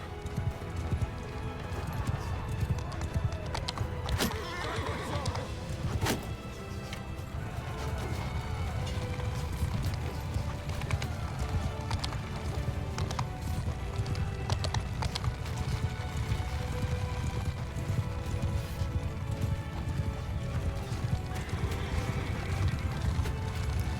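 Cavalry horses gallop in the medieval combat game Bannerlord, a dense, continuous drumming of many hooves with clattering armour and scattered sharp impacts, occasional whinnies rising through the steady battlefield rumble.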